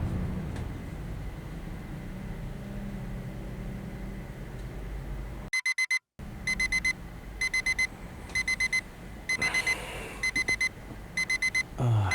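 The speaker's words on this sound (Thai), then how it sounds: "ฟางตั้งนาฬิกาปลุกตีห้าทำไมเนี่ย" An alarm clock set for five in the morning, in a Thai short film, beeps in rapid repeated bursts after a steady hiss, the pattern continuing in loud regular clusters.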